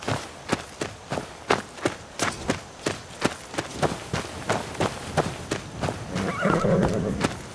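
A saddled war horse in Skyrim whinnies and snorts over a steady clip-clop of hooves, close and loud, the hoofbeats falling in an even rhythm before a longer neigh near the end.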